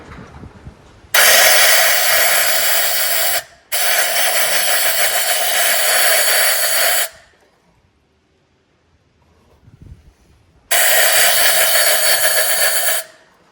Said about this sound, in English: so we can start blowing out the debris